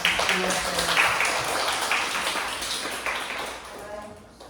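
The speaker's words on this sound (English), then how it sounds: "let's give a big applause again to Priya" A class applauds its guest speaker Priya with a sustained round of clapping from many students, moderately loud at first and gradually fading, with talking mixed in.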